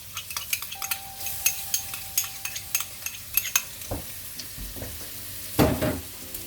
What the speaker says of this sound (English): Stir it up, let that saute a bit.